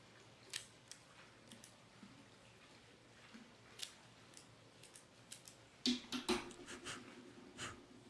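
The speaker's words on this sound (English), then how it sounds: "I am using my Cassetti combo cutter. Because I prefer a V-cut." A Cassetti combo V-cutter snips through a cigar in a few crisp clicks and a sharp cut, close and quiet, after scattered faint handling taps.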